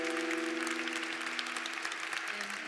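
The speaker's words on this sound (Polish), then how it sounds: "Brawa." Audience applause at a tenth-anniversary jubilee concert, loud, dense clapping filling the whole stretch over a sustained low musical tone.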